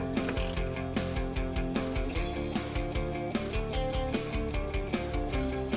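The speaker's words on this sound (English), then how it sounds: "Remove the rearmost factory bolt from the frame rail." A ratchet wrench clicks in a rapid, steady rhythm while loosening the rearmost factory bolt on the frame rail of a 2015-2019 Chevy Silverado or GMC Sierra 1500 pickup, with a continuous musical tone underneath.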